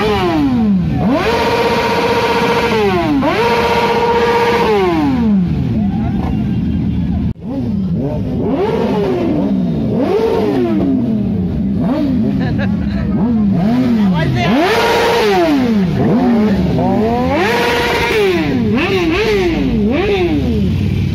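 Kawasaki ZX10R superbikes rev hard at a bike gathering, repeated loud rising and falling engine sweeps overlapping one another across the whole stretch, close and powerful.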